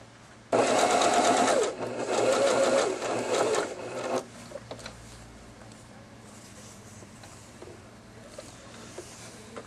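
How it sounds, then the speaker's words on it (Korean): An Elna 3210/3230 sewing machine runs in two close bursts of rapid, rhythmic stitching, sewing a straight seam at 3 mm width and 3 mm stitch length, then falls quiet apart from light handling noise. "사용해서 박음질을 해보겠습니다"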